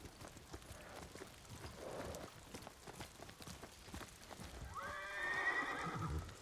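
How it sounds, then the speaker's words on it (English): A horse whinnies in the samurai adventure game Ghost of Tsushima, a loud, close neigh with a falling tremolo near the end, following a stretch of soft background ambience. "Keep her safe, little horsey."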